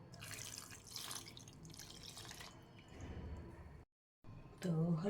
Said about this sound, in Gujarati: અને તેમાં થોડું ઠંડુ પાણી નાખીશું.